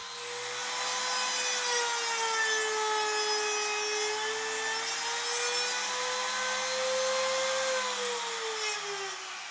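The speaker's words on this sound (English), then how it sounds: "I'll just use the router bit to cut the actual slot up about 1/4 inch" A router bit cuts a keyhole slot into wood for a bathroom mirror, a steady close whine whose pitch drifts slightly as it works, loud and continuous with no talking.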